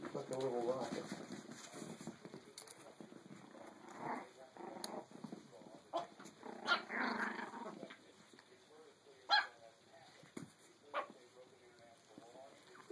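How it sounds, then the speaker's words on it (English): A Chihuahua pup growls and gives a few short barks close by, while people chat softly over it. "He's barking at Cheech."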